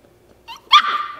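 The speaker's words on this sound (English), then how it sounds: "You got a bark? You barking at me now?" A dog lets out one sharp, loud bark, close to the microphone, with a softer yip just before it. No other sound is heard.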